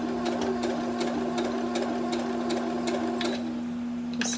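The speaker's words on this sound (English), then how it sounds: "we're going to sew another little seam here" A sewing machine stitching a seam on a dress, a close, rapid mechanical whir with a steady motor hum and regular clicking needle strokes that stop near the end.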